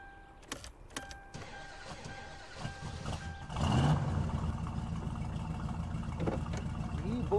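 In the video game My Summer Car, a few clicks and a short whirring crank, then a car engine catches and settles into a steady low idle, close and fairly loud.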